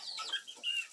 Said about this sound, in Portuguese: As galinhas estão todas soltas lá pra cima, mas só tem o galo pupo solto.